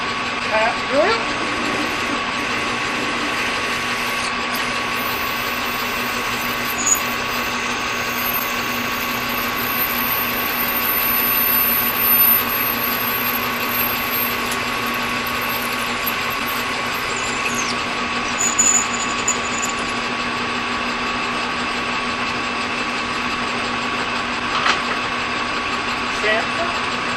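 A machine motor hums steadily for a long stretch as a tap drill runs into a metal pulley spacer for a Ford engine, with a few faint knocks and clicks along the way.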